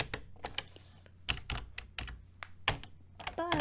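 Typing on a computer keyboard while entering data, with irregular bursts of crisp close key clicks and short pauses between groups of strokes.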